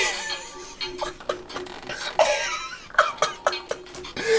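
A person coughs several times in short, sharp bursts close by, with brief pauses between them and no talking.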